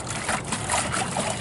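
A paint brush being jammed down into a bucket of clean water for washing, giving soft sloshing and swishing water sounds that continue at a moderate level without pauses.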